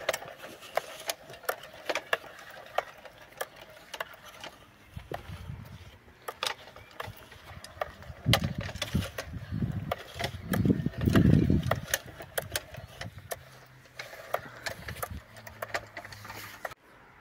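A manual aluminium seeder is pushed along a garden bed while sowing carrots, giving a steady ticking, rattling patter with low rolling rumbles that build in the middle, close by with no talk.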